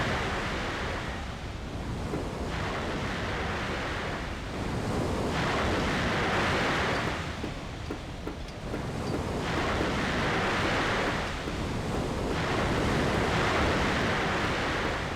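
Waves surging and crashing in repeated broad swells in the video game Cold Fear, with loud sustained rushing water and wind-like roar rising and falling every few seconds, with no voices.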